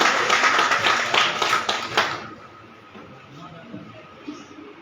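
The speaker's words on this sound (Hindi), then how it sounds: "आइए, कृपया एक बार जोरदार ताली बजाएं बड़े भाई का।" Audience applause at a City Press Club Faridabad event, a burst of dense clapping for about two seconds that quickly fades into quiet room noise.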